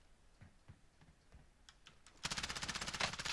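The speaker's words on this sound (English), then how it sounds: "looks like he's sniping with an unsuppressed gun" Unsuppressed sniper rifle fire in Warzone, heard as faint sharp cracks spaced apart, then a dense, loud rapid burst of gunfire taking over the last second or so.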